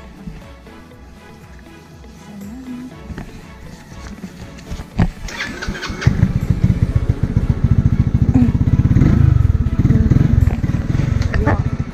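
A motorcycle engine starts up and settles into a loud, steady idle near a beach, preceded by some clatter and thumps before the running engine dominates.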